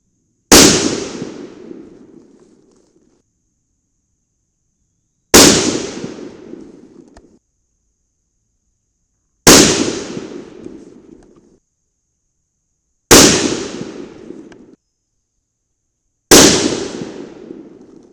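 Five loud, sharp shots from a Tikka .308 Win rifle firing 45.5-grain loads ring out at slow, even intervals of a few seconds, each crack trailing off in an echo with silence between.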